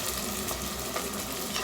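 Onions frying in a pan for a chicken pulusu dish, a dense, loud, even sizzle that fills the short moment without any talk.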